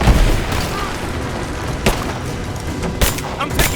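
Gunfire in Rise of the Tomb Raider cracks out in a few sharp, loud bursts over a dense rumbling background of combat noise, with voices speaking in between.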